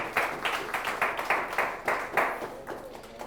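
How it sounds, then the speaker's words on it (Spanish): Congregation clapping along at a worship service, a series of evenly spaced hand-clap bursts in a steady rhythm, moderately loud and fairly close, with no talk over it. "Un aplauso para Yahweh."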